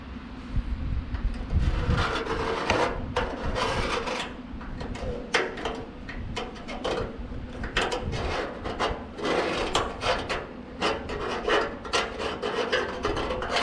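Rough, continuous rasping of a grinder working a metal custom dash part for a 1967 Chevelle down to a scribed line, steady and close with repeated scraping passes and short pauses, no talking.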